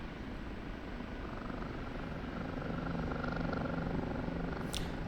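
Rotor and turbine drone of an OH-58D Kiowa Warrior helicopter in the DCS combat flight simulator, a steady dense whir that holds level throughout and swells slightly toward the end, with no voices.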